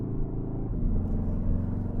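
Steady low engine rumble and road drone inside a Cupra Leon driving in Cupra mode on an Alpine mountain pass, continuous and fairly loud throughout with no talking.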